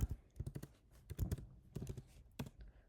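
Typing on a computer keyboard in a web browser's developer console: a quiet run of irregular key clicks in quick bursts, with no talk.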